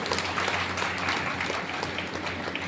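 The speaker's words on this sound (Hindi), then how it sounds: "मैं चाहूँगा अपने खुशी में जोरदार ताली होनी चाहिए।" Audience applause at a business show, a steady dense patter of many hands clapping throughout, moderately loud with no voice over it.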